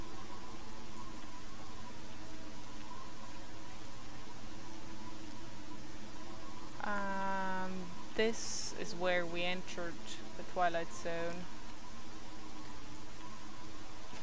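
Steady rain in the Lost Alpha video game hisses evenly throughout, a constant soft wash beneath a voice speaking briefly in the middle.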